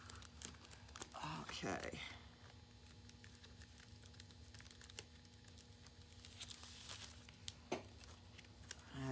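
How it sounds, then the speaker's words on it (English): Vinyl letters on transfer tape being rubbed and peeled for a cup-foiling craft: faint scratchy rubbing and crinkly peeling bursts early on, then quieter soft scrapes and light taps, with a brief spoken word. "when you see me rubbing, what I'm doing is helping to adhere the letters to the transfer tape"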